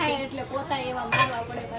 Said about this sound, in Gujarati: લાવો વાસણ ઉટકી દઉં